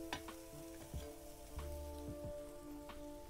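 Wild vegetable with jaggery sizzles and fries on a hot tava, a steady soft crackle with a few sharper pops and clinks of a spoon, close and fairly quiet with no talking.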